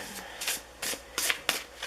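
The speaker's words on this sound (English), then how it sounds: "let me shuffle up your next oracle card here" Oracle cards are shuffled by hand in a series of quick, papery riffling bursts, five or six close, crisp flurries in under two seconds with no talking.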